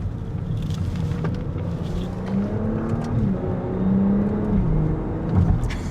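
A 2025 Audi S5 rounds a corner, its engine a steady, fairly loud drone with a gently rising and falling pitch as it pulls through, under continuous road and cabin noise with no talking.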